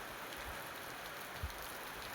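Steady rain falls on a farm field, a dense, even patter on surfaces with one soft thump partway through.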